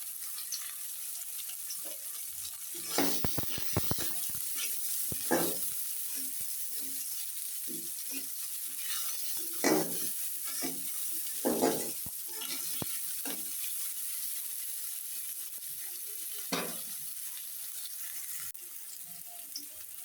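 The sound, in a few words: onion and green chilli frying in a pan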